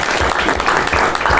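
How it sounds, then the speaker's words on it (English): People at a city council budget session clap in a brief, dense burst of applause, fairly loud and steady, with a little murmur of voices underneath. "that deserves an applause."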